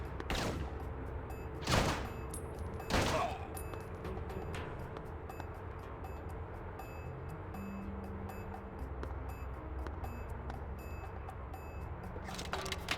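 Gunfire in a GameCube shootout sounds as a few sharp, loud bursts near the start and again at the end, separated by a long stretch of low background hum.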